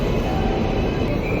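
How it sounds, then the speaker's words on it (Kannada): The Hubli-Kurnool special train departs the station with a steady, loud, close rumble of rolling rail cars and wheels, no voices present. "ನೋಡ್ರಿ, ಹುಬ್ಳಿ ಕರ್ನೂಲ್ಗ ಡಿಪಾರ್ಟ್ ಆತ್ ನೋಡ್ರಿ."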